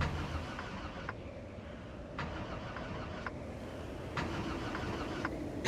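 A truck in Project Zomboid fails to start, a rough continuous cranking engine rumble broken by a few short clicks and restarts at regular intervals, close and steady with no talk.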